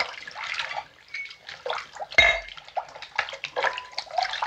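Rum poured to fill a container during an emergency medical procedure, heard as an irregular run of splashes and trickles with one louder gurgling burst partway through, close and fairly quiet.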